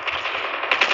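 Rapid automatic gunfire from the mobile shooter game Call of Duty Mobile, a sharp burst of closely spaced shots lasting under a second, loud and near with no talking.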